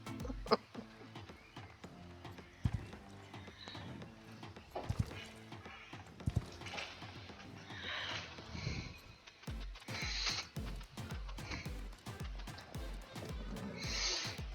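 Rhythmic video game hoof clip-clops of an Arabian horse at speed, a quick series of hits with a few louder thuds, fairly faint with no talking.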